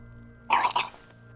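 A character in the video game Disco Elysium retches and gags, two short guttural heaves in quick succession over a quiet steady hum, close and fairly loud.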